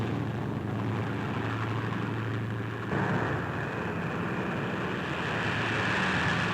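Tow plane engine droning steadily through a glider snatch pickup, a continuous propeller-aircraft hum held at an even, fairly close level with a slight rise partway through.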